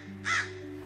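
A single crow gives one loud caw partway through, standing out clearly over a low steady background hum.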